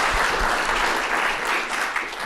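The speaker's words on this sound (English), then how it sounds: "I just want to give Christina one more round of applause" An audience bursts into loud, dense applause after an entomology memorial lecture. The clapping is steady and sustained across the hall.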